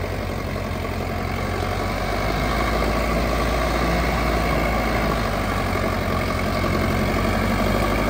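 A turbocharged farm tractor engine runs in first gear with a loud, steady, even drone and a low rumbling hum that holds unchanged throughout, with no voices.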